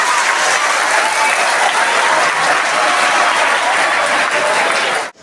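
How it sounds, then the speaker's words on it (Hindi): Schoolchildren applaud loudly at an Independence Day event at a Delhi school, a dense, continuous roar of clapping from a large group held for about five seconds before stopping sharply. "जोरदार तालियों के साथ"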